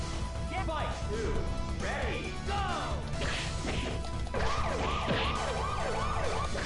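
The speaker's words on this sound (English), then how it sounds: "that police siren is freaking loud" A police siren in the video game Yakuza: Like a Dragon wails in repeated rising and falling sweeps over the second half, mixed with fight hits and crashes, while a person talks throughout.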